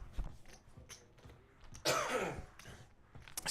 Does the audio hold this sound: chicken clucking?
no